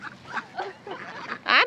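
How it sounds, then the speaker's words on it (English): Ducks crowding close at a duck park give a run of nasal quacks and grunting calls, near and moderately loud, ending in a sharper burst. "Ducks!"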